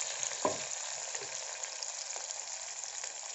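Onions frying and sizzling in a pan for tomato rice, with a steady broad hiss throughout and a brief stirring scrape near the start, no talking.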